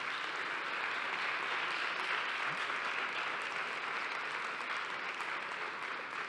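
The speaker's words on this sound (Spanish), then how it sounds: "si no, os damos un gran aplauso" An audience at a talk gives steady, continuous applause, an even wash of clapping from many hands that lasts for several seconds without pause.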